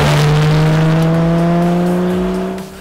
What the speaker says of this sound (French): le bloc de la GTS émet ce grondement métallique caractéristique des 911 avec un final rageur à l'approche de la zone rouge